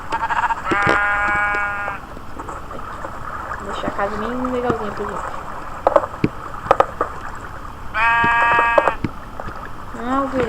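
Video game sheep bleat in two wavering, buzzy bursts near the start and again near the end, loud and close, while someone talks over the game sounds in between.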